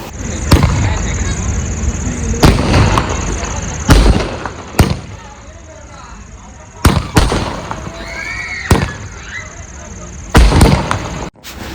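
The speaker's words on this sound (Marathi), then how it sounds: "फटाके वगैरे आणले होते" Sharp firecracker bangs burst at irregular intervals during a Ganesh immersion procession, some loud and close, with a few whistling streaks and a steady background hum between the blasts.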